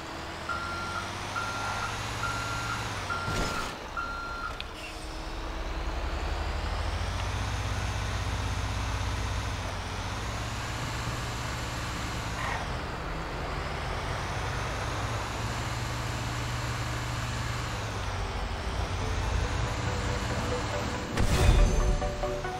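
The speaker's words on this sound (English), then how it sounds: "Take the truck and leave the area before someone reports you for illegal dumping." Truck in GTA Online driving away from an illegal dumping site, its engine rumbling steadily for over twenty seconds, with a repeating reversing beep near the start and a sharp knock close to the end.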